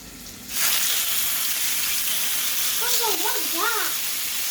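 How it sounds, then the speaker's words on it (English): Steak pieces sizzle and fry in a pot, with a loud steady hiss starting abruptly as the meat goes in and a voice briefly speaking over the frying. "All right, so the meat is going in, yeah?"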